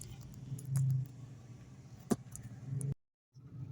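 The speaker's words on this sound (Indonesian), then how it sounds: "ini jalanan semuanya macet" Car idling in a stalled traffic jam on a busy city road, a low steady engine hum with a brief swell and a sharp knock, then the sound cuts out for a moment before resuming.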